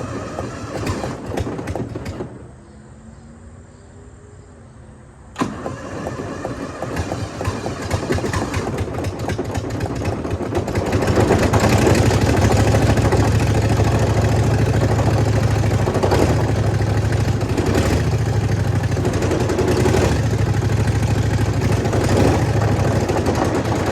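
A Hydra Mac skid steer engine, worn and needing work, cranks and catches, then runs steadily with a loud, rough, continuous idle that grows fuller after a brief lull.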